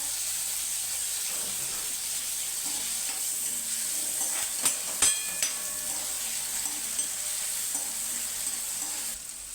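Tomato and onion sizzle steadily in a hot pan, a constant bright hiss with occasional soft scraping and stirring clicks, close and moderately quiet, with no speech.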